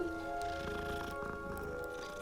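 A cat purrs in the Hogwarts Legacy video game, a soft continuous rumble under steady, quiet game music.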